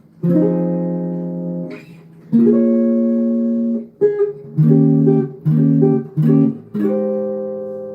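Clean, sustained drop 2 chords for a song played one after another, some held long and others struck in quick succession, with no voices.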